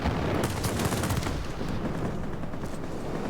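Three 30mm cannons on a Ta 183 plane firing in World of Warplanes, a dense heavy barrage of rapid booming shots, loud and continuous throughout.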